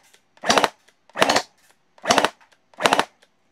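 Four short, sharp mechanical bursts from a Lehui AUG gel blaster toy, each a quick clattering rattle of several shots that cuts off abruptly, evenly spaced against near silence, close and loud.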